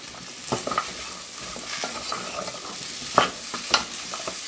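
Oxtail and white onion browning in a pot for oxtail soup: a constant sizzle with several sharp clanks and scrapes as the spoon stirs against the pot, close and alone without speech.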